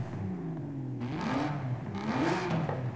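A Jaguar XKR-S GT fitted with a 7.7-litre Aston Martin V12, in the racing game Forza Horizon 5, revs up in two rising surges, its engine note climbing steadily with a smooth mechanical whir and no talking.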